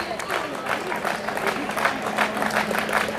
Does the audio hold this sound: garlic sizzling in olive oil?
no